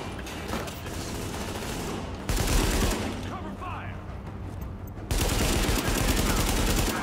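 Sustained gunfire from The Division, a shooter game set around Grand Central, rattles on with dense bursts and a louder stretch near the end, mixed with game noise and background action.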